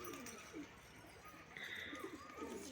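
Pigeons kept by a 12-year-old boy give soft, low, repeated cooing calls at a gentle rhythm, faint and fairly close, over quiet background noise.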